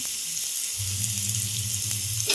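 Onions sizzle steadily in hot oil in a pan while being stirred, with a loud, continuous frying hiss up close and a few soft scrapes of the spoon.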